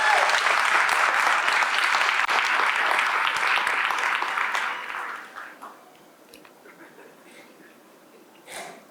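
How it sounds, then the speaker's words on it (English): Applause from the audience at a police community relations awards ceremony runs strong for about five seconds, then fades to scattered claps and quiet room noise with a faint rustle near the end. "Your applause, please."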